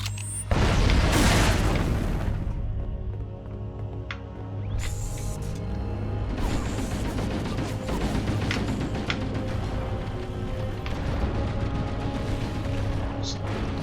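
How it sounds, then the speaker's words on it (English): A stick grenade detonates in Halo: The Master Chief Collection, a loud booming blast near the start that trails into a sustained wash of in-game battle noise, rumble and scattered impacts. "Take a stick grenade."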